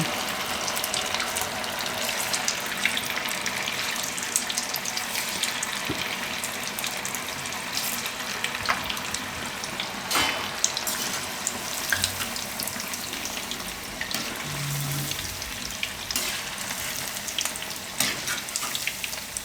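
Spinach and potato bhajiya deep-frying in a pan of oil, a continuous dense bubbling sizzle that holds steady for the whole stretch with scattered small pops; no voices.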